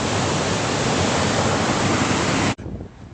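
Rushing water from a stream running high, a loud, steady broadband roar close to the microphone that cuts off abruptly near the end.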